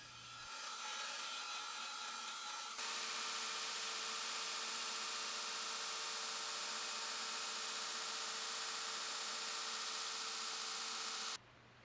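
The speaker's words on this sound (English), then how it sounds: "I'll change to a 120 grit belt and take the grind right up to the line" A belt grinder fitted with a 120 grit belt grinds a knife blade in one long continuous pass, a loud steady abrasive whine and hiss that starts, jumps in intensity and cuts off abruptly near the end.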